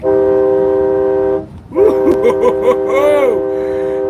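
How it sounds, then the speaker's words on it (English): A loud multi-tone train horn on a pickup blasts one long steady chord, breaks off, then sounds a quick series of wavering stuttered honks and a final swelling blast, with crowd noise faint beneath. "blow that Trump train horn real quick"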